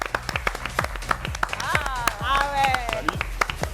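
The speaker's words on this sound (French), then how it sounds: "Je vous demande d'applaudir coach Souleymane" A small audience at a French sport and wellness show claps in a rhythmic, evenly spaced beat to welcome a coach, with people talking over the applause.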